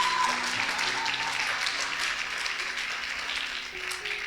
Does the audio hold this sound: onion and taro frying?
no